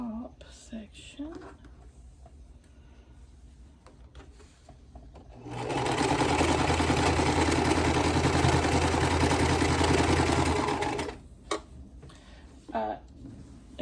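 A domestic sewing machine chain piecing quilt block pieces runs in a steady, fast mechanical whir for several seconds, framed by soft handling noises and quiet talk before and after.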